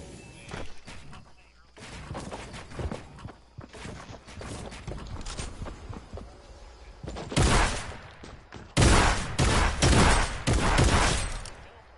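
Shotgun and other gunfire in a John Wick game mode of a video game, a dense run of mid-distance shots and mechanical clatter that swells into loud bursts near the end, with a player talking over it.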